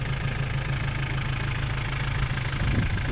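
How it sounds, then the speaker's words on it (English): A tractor engine runs steadily nearby, a deep, even idling rumble with no speech over it. "Good thing he's got this tractor."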